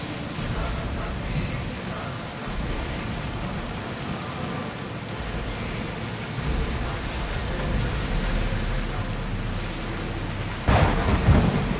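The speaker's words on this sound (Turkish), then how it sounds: "I don't like the look of that storm!" A thunderstorm in Assassin's Creed Odyssey, with steady rumbling rain and wind noise building toward a sharp loud crack of thunder near the end.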